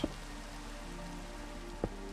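Steady, soft rain falls in Minecraft as a continuous quiet hiss, with two brief, faint taps at the start and near the end, and no speech.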